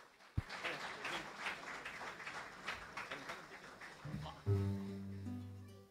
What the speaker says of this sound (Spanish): un fuerte aplauso otra vez, por favor